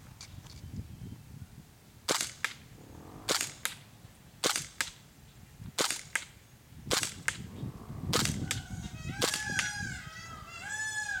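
A WE P08 Luger airsoft gas blowback pistol running on propane and firing .25 BBs outdoors at a target about 50 feet away, giving seven sharp, evenly spaced cracks with a quick action snap after each, while birds call in the background near the end.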